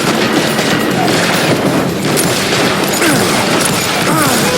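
Gunfire in the Western shooter Call of Juarez: Gunslinger, a loud, continuous wall of shots and blasts with no gaps, dense and close for the whole stretch.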